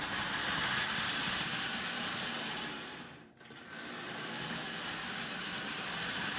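A Marx 10005 toy train with a newly installed full-size motor runs on its track with a steady mechanical whir and rattle, briefly easing off midway before picking back up.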